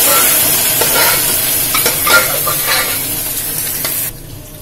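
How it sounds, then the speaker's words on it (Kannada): A tempering for tomato dal saaru sizzles loudly in a hot pan while a spoon stirs it in short scraping strokes, until the frying cuts off abruptly near the end. "ಒಗ್ಗರಣೆಗೆ ಇದನ್ನ ಹಾಕ್ತಾ ಇದ್ದೀನಿ"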